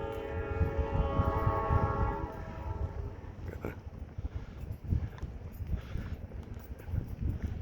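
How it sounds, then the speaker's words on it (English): A Norfolk Southern mixed freight train rumbles nearby in Fostoria, Ohio, with a sustained horn blast over the first couple of seconds, then rolling wheel and rail clatter continuing steadily. "Train approaching, I think Norfolk Southern"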